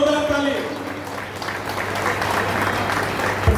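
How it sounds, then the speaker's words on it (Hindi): Loud applause from an audience at an award ceremony, a dense continuous clapping that carries on steadily, with a voice briefly heard at the start. "जोरदार ताली"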